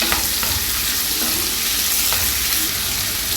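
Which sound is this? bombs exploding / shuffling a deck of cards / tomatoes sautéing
tomatoes sautéing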